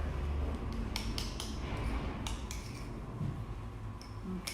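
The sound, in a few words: spoon stirring honey into yogurt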